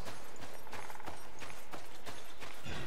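Horse hooves in the Darksiders 2 video game, a steady galloping clip-clop of repeated hoofbeats with broadband game ambience layered underneath, loud and close throughout.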